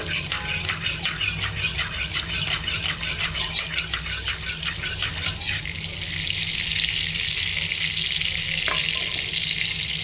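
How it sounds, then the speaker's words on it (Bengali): Ghee and butter with a little white oil being mixed in a hot pan, giving a steady close sizzle and frying hiss that grows brighter and more even partway through. "এক চা চামচ মতো ঘি আর দিয়ে দিচ্ছি হাফ চা চামচ মতো মাখন এবার ভালো করে এটা একটু মিশিয়ে নেব"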